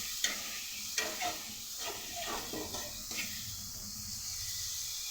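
Spice masala frying in a pan, a steady hiss of sizzling with scattered scraping knocks of stirring in the first few seconds, then settling into an even, moderate fry.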